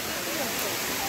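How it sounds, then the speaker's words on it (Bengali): Water falling at Bamni Falls, a low-flow waterfall, heard as a steady broadband rushing hiss, even and moderately faint, with no break across the moment. "এই দেখো ফলসের জলটা পড়ছে ওপর থেকে।"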